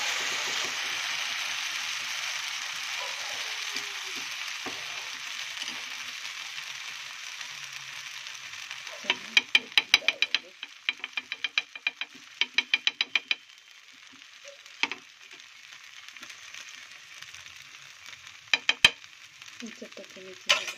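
Semolina chilla batter hisses on a hot griddle in a steady bright sizzle, with bursts of quick clicking scrapes from a spoon partway through and a few sharp taps near the end.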